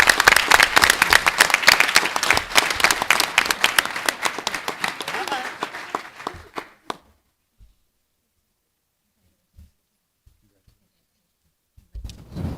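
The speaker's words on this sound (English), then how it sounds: "let's give them one more round of applause" An audience at a school board meeting gives a loud, sustained round of applause for state champion students, the dense clapping fading out after about seven seconds into near silence, with brief scattered knocks and voices returning at the end.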